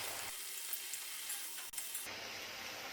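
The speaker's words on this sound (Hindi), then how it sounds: "इन्हें थोड़ा थोड़ा करके फ्राई कर लेंगे" Yam (suran) pieces frying in hot oil in a home kitchen give off a steady, close broadband sizzle with a brief soft clatter near the end and no voices.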